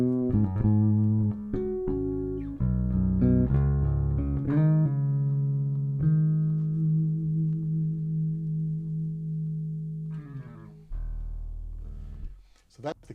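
Clean direct-input bass guitar signal played back through audio interfaces, sustained low notes and slides ringing loud and dry, with a few plucked changes and a brief scratchy noise near the end.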